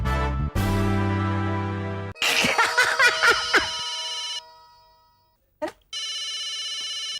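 A phone ringtone sounds loudly and close, a sustained electronic melody that cuts off, then returns in short bursts after a burst of busy sound and a pause of near silence.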